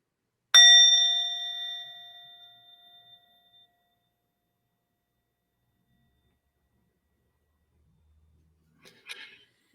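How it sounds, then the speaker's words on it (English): A single meditation bell struck once at the start of a mindfulness session, ringing out clear and resonant and fading slowly over about three seconds into silence, followed near the end by a faint, brief rustle. "I'll start with the bell just to orient our thoughts."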